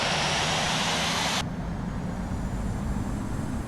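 Regional jet engine roar in the Infinite Flight simulator game, a loud steady broadband whoosh that abruptly drops to a duller, quieter hum partway through and then holds.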